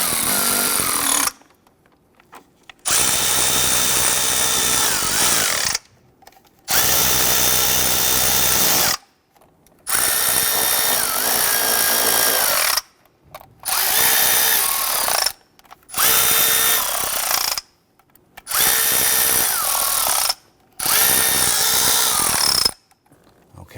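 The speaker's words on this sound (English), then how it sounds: "Now that we have all of the lower intake bolts started, we're just going to gently snug them down." A power tool snugs down the lower intake bolts on a 2011-2021 Jeep Grand Cherokee 3.6L during an oil filter housing and cooler replacement, running in six or seven steady bursts of a few seconds each, separated by short silences, close and loud.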